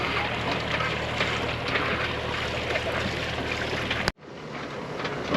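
A sailboat runs under engine power along the west coast of Ibiza, a steady low motor drone mixed with wind and water rush that cuts off abruptly near the end, then resumes more faintly.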